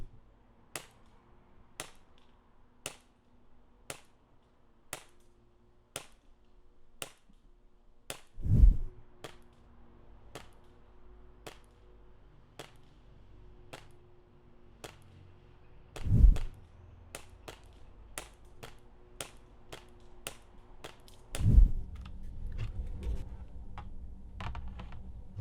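An AAP-01 airsoft pistol fires a long series of crisp, evenly spaced snapping shots, first unsuppressed and then suppressed, quiet and close, with a few heavier thuds breaking the rhythm.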